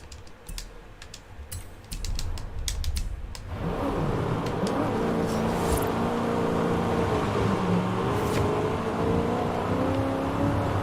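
A car engine in Forza Horizon 5 revs and drones steadily through the second half, rising from quieter keyboard-like tapping at the start into a continuous whining engine tone.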